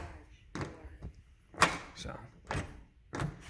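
A door fitted with a 2GIG GC3 security sensor opening and closing in a home, a few sharp knocks and thuds spaced across the moment while someone talks briefly.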